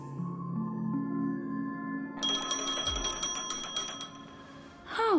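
A phone rings in Honkai: Star Rail as a bright, rapid electronic trill that starts partway through, layered over a sustained musical drone. It is fairly loud and ends with a rising chime.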